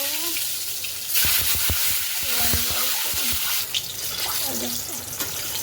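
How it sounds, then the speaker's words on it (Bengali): Eggs sizzling and frying in hot oil seasoned with a little turmeric, a steady crackle with occasional clinks and scrapes, a voice speaking at times over it. "এখন এই ডিম কটাকে একটু ভেজে নেব"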